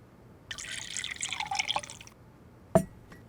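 Water trickles and splashes into a glass for about a second and a half at close range in a quiet indoor room, then a sharp knock or clink follows alone.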